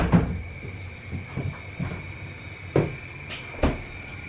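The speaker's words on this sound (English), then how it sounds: "I usually exit through these doors, go get the dogs, come in here and close." Doors on a mobile dog grooming van shut in a series of sharp thuds and latch clicks, several closures spaced across a few seconds, close by.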